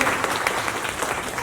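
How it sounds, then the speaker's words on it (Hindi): An audience claps loudly and continuously, with dense applause that fills the short moment. "जोरदार तालियां एक जीटेक माइनिंग सॉल्यूशन की इस सोच के लिए।"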